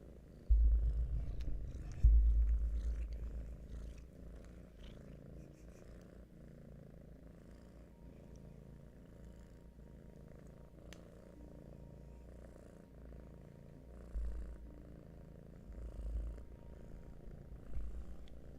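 A domestic cat purring close by, a steady low rumble that runs through the whole stretch, swelling louder in a few bursts near the start and again toward the end, with no talking.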